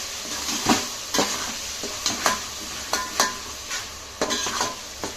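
Ingredients for masala bhaat being sautéed in a pan: constant close sizzling broken by regular scraping strokes of a spoon, with no talking.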